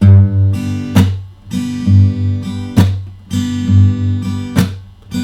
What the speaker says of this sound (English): a basic percussive ballad pattern.